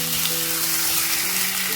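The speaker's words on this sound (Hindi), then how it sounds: "ये देखिए मीट को हमने थोड़ा सा फ्राई किया है।" Meat frying in a garlic and ginger paste, a steady close sizzle with bubbling crackle running continuously and loud throughout, no voices.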